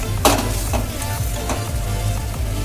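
A cashew and yogurt masala paste, thinned with half a cup of water, is stir-fried in a pan for white aloo dum. A steady close sizzle runs throughout, with a few sharp scraping stirs and no talking.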